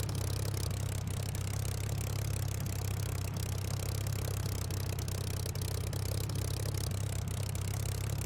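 A Merlin aircraft engine drones steadily in Microsoft Flight Simulator, a constant low hum with faint rattle, moderately quiet and with no talk.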